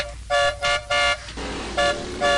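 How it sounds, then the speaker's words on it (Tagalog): A motorbike horn beeps five times in short, loud bursts, spaced unevenly, over a low engine rumble. "kagahod man sinang busina sang motor sa likod ko yaman"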